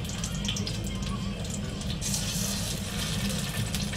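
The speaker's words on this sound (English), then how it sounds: "now I'm adding water, basically" Water is added to a pan of hot bacon grease while cooking pierogi, making a soft, continuous watery hiss and splashing over a low background hum, fairly quiet and steady throughout.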